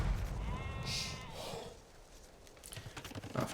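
A sheep bleats once, drawn out, in an Age of Empires-style strategy game, followed by faint clicks and soft game effects.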